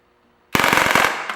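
An Umarex Beretta M92 A1 air pistol fires a rapid full-auto burst after a moment of quiet, a loud, tight string of sharp cracks lasting under a second.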